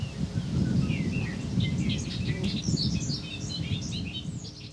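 Many birds chirping and twittering at a distance over a steady low rumble of wind, the calls overlapping in a busy outdoor chorus.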